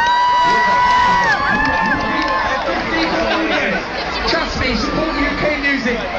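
A large festival crowd at Wireless 2010 during a set roars with loud, continuous cheering, whoops and chatter close by, while amplified voices and music tones ring out over the noise.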